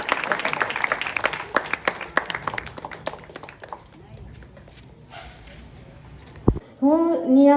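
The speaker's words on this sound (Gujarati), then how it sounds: "તાળીઓના ગરગાથી વધાવી છે એમને." Audience applause at a large Hindu community gathering in Valsad, a burst of scattered claps that thins out and fades. A voice speaks briefly near the end.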